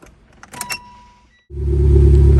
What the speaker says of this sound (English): Gonna show you guys right now a cold start.